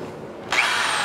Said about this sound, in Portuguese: Tô usando a broca 1/4 aqui,